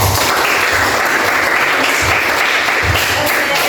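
An audience of students in a classroom lesson breaks into loud, dense applause that continues unbroken from start to finish, close and full.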